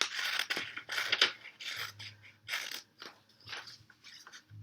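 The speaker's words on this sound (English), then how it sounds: "If it's got a dotted line, you're going to cut around it" Scissors cutting paper along a dotted line, a series of crisp snipping bursts repeating at an uneven pace, close and fairly quiet.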